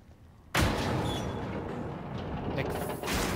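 A single loud shotgun blast from The Evil Within 2 bursts in suddenly after a quiet moment, followed by a sustained mechanical rumble and clatter, with a second sharp hit near the end.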